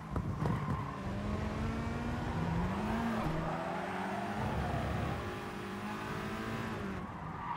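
Race cars at Bathurst in the GT Sport video game roar continuously through the clip, engines revving up and down with shifting pitch close by, with brief tire noise.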